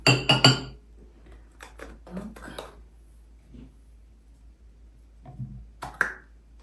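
Ceramic plates and dishes clink sharply in a quick cluster as food is moved from plastic containers onto plates, followed by scattered lighter taps. A voice is heard between the sounds.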